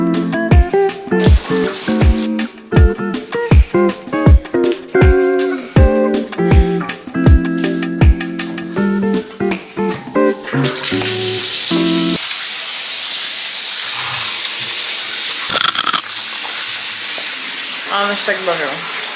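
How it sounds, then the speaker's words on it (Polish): Boiling water poured in a home setting. Tonal, music-like notes come first, then a steady, fairly loud rushing hiss fills the last half of the clip. "nalała się wrząca woda, więc jest dobrze"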